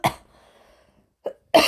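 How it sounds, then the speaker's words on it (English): A person with a lingering illness coughs three times: one harsh cough at the start, a short one after a pause, then a louder burst at the end. Quiet in between. "sorry about all the coughing."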